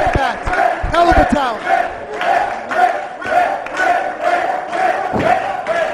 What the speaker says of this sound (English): This crowd going crazy for him.